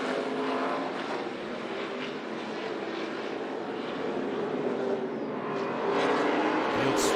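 ARCA Menards Series West race cars streaming uphill at Sonoma Raceway, a dense, continuous engine roar from the pack that builds slightly toward the end.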